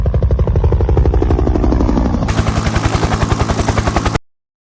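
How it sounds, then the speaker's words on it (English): A helicopter's rotor chops in a rapid, loud, even rhythm, the pulsing thud continuing steadily until it cuts off abruptly near the end. "Helicopter."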